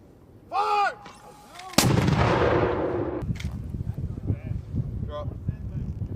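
Loud weapons fire rings out during a U.S. Army paratrooper live-fire combat drill with Slovenian forces: a single sharp blast followed by a long rumbling echo and sustained noise, with shouted commands just before the shot.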